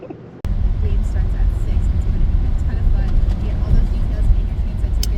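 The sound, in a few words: car driving through puddles during hailstorm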